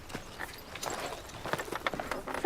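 Horses' hooves clip-clopping in a period drama setting, an uneven series of close hoof knocks over a couple of seconds with no talk.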